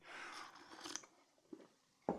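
Someone eats freshly made pancakes, with soft, close chewing and a few quiet bites in a calm room, then a sharper clink at the end.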